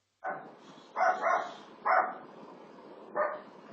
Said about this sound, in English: shut your dog up